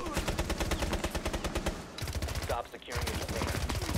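Rapid automatic gunfire in Rainbow Six Siege, loud and close, with steady repeating shots nearly throughout and a short pause near the middle, while players talk faintly.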